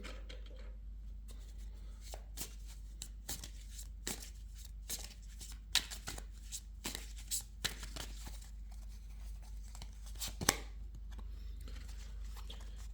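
Tarot cards handled and laid down on a table during a reading, soft close shuffles, slides and light taps coming in scattered bursts over a quiet room hum, with no talking.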